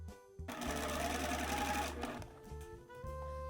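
A sewing machine runs a continuous stitch along a folded dress hem, a close, steady mechanical whir that slows and pauses briefly before starting up again.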